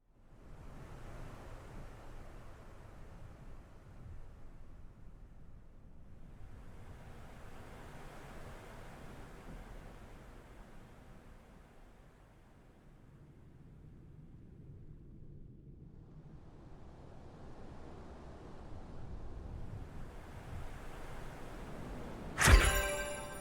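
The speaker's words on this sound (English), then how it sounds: "Soothing ocean waves and other nature sounds for the Wii U." Soothing ocean waves from a Wii U nature-sounds program swell and recede softly in slow, quiet surges of surf, ending with a brief louder bump.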